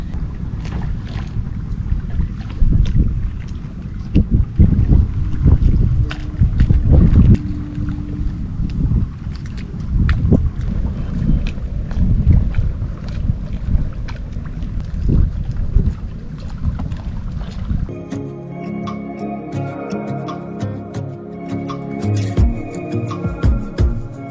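Strong wind buffets the microphone on the bank of the Rupnarayan River, a steady loud rumbling roar for most of the stretch before easing into quieter open-air ambience near the end.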